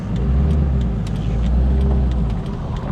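A 2000 C5 Corvette with a faulty charging system bogging down while driving, a loud steady low engine drone inside the car with no clear rise in revs.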